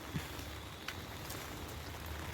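Soft, steady patter of rain falling on foliage, quiet and continuous with a few faint drip taps.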